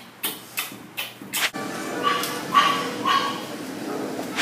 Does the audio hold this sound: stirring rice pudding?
no